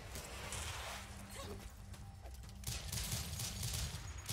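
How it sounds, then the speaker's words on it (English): Gunfire in the 2D shooter Rise & Shine, a steady crackle of rapid shots under a dense game soundscape, fairly faint and continuous throughout. "Looks like I can shoot bullets out of the air, too."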